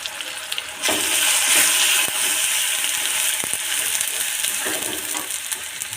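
Chopped tomato, ground garlic and spices fry in a pan for an egg mash, a continuous loud sizzle that swells after the first second, with a few sharp clicks of stirring on top.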